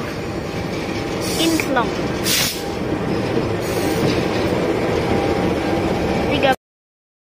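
A locomotive in the Cilacap depot rumbles steadily close by, with wheel squeal and a few clanking knocks over the continuous engine drone and a short spoken word, ending abruptly.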